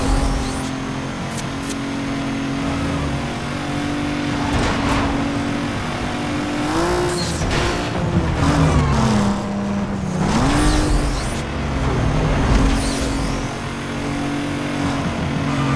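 Race car engines in Need for Speed Most Wanted drone and rev continuously, with pitch rising and falling through gear changes and passing cars, loud and without speech.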